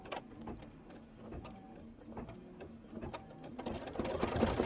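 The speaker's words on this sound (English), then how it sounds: "It's a minute of stitching." A Kimberbell embroidery machine stitching steadily, its needle producing a rapid mechanical chatter with a low motor hum, close and continuous, growing slightly louder toward the end.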